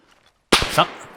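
Gunfire in the combat video game ArmA 3, set in a Cold War battle: a sudden loud burst of shots after near silence, with a second crack and a lingering tail, alone without talk.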